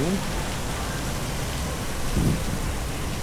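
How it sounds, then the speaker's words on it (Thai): Steady rain falling at a riverside resort in Kanchanaburi, a dense even hiss throughout with a faint low rumble, with brief voices of people talking underneath. "โอ้ฝนตกแล้วเนี่ย"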